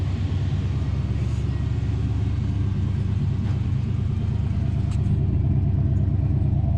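An old Dodge truck with a 440 engine, unrun for about ten years, idles steadily on a temporary exhaust, giving a continuous loud low rumble with no talk over it.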